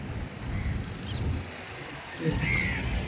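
Crows caw outdoors, mid-distance and fairly loud, over a noisy background.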